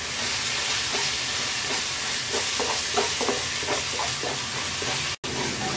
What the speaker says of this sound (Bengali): এবার এই মশলাটাকে আমরা 4-5 মিনিট কষিয়ে নেব